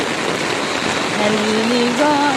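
Steady rain pours down in a dense, hissing wash during a flood; a faint voice-like tone rises briefly in the background toward the end.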